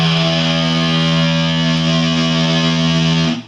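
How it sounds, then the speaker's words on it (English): A Reuss ET-01 Evil Twin pedal with both channels on, producing its classic distortion plus tone: a single loud, buzzing, heavily distorted chord held steadily for over three seconds before quickly fading, with no voices. "So now it's both on, which is the classic distortion plus sound."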